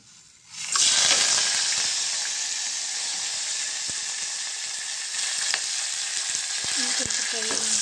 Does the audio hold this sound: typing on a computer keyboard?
no